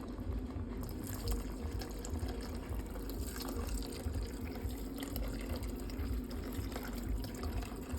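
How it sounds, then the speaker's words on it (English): Water runs steadily into a pot of albóndiga soup already holding tomato and broth, a continuous splashing pour at close range with no talking. "And then I'll add just water."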